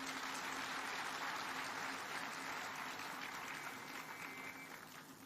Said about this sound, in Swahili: Tafadhali huyu muungwana tumpigie makofi jameni.